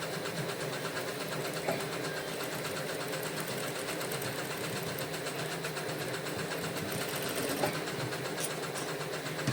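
A sewing machine runs steadily, stitching the shoulder seam joining the front and back pieces of a blouse, a continuous close mechanical whir with no talking.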